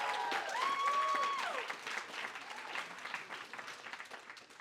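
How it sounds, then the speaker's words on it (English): A graduation audience at a hospital medical education ceremony breaks into a steady round of applause that swells and then gradually thins, with a brief tonal sound over the clapping near the start. "If we could have a round of applause."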